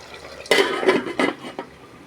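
A metal lid set on a pot of simmering tamarind stew on a gas stove, a few close clattering clinks and scrapes that fade into quiet kitchen background.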